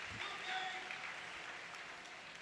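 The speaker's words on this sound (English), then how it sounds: "It's so cool to hear that crowd applaud these sequences." A crowd at the Orpheum applauds a grappling match in a faint, distant, even patter of clapping that lasts a couple of seconds.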